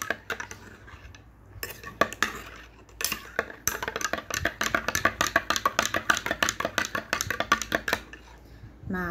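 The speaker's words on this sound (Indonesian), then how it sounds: "Terus kita aduk." A salt solution is stirred in a glass with a spoon, giving a steady run of close, rhythmic clinks and scrapes that grow denser and faster midway and continue to the end.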